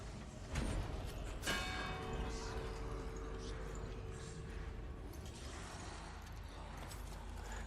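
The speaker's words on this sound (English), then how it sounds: "even though I rang the bell" A bell rung in a PS5 video game strikes once, its bright metallic tone ringing out and slowly fading over steady mechanical, creaking game ambience.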